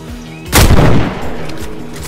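A single loud gunshot in the DayZ video game striking a metal bar, a sharp close blast with a short metallic ring that decays over about a second.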